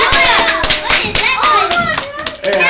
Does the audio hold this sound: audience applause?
yes